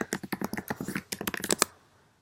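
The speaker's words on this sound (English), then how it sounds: "I have to type in my password." A computer keyboard is used to type a password: a quick, uneven run of close, crisp key clicks that stops abruptly after about a second and a half, leaving near silence.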